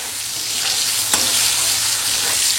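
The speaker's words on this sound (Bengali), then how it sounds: "আমটা দিয়ে দিলাম, আমটা এখন ফোড়নের সঙ্গে একটুখানি সময় ভেজে নেবো।" Raw green mango pieces sizzle in hot oil with dry red chilli and mustard seed tempering, a steady close frying hiss with one brief sharp crackle partway through.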